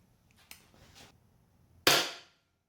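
A WE G17 Hi-Speed split-slide gas blowback airsoft pistol on regulated CO2 at 120 psi, firing Crytek 0.25 g BBs: faint clicks and handling, then one sharp, loud, close crack with a short decaying tail.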